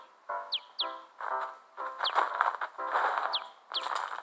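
A pet parrot lets out repeated sharp, high chirps and tweets, several bursts spread through the clip, close and moderately loud, with no talking.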